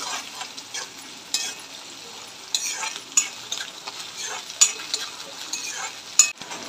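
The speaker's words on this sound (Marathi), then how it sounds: "बघा कांदा आणि वाटण छान प्रकारे फ्राय झालेला आहे" Onion and a pounded spice paste for a chavali masala fry in a pan, a soft sizzle under repeated scraping stirs and occasional clinks of a spoon against the pan, close and fairly quiet, without talk.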